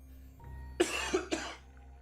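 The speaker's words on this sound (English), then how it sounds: "Got a cough." Two sharp, raspy coughs close to the microphone, one right after the other, with a faint hum underneath and no talking.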